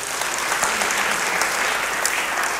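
A church congregation applauds together, a dense, steady clatter of many hands clapping at once, filling the room for a few seconds.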